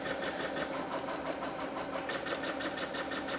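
A sewing machine stitches a long basting stitch along ribbon with a steady, fast, even mechanical rhythm that runs throughout at moderate level, with no talking.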